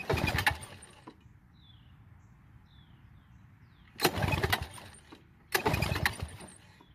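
A Toro commercial mower engine cranks in three short, loud bursts separated by quiet pauses and never catches. Faint birdsong can be heard in the gaps.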